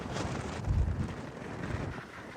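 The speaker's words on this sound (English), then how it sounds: "It's very windy." Strong wind gusts outdoors beside a lake buffet the microphone with a steady, rough roar that swells briefly near the middle. No one speaks.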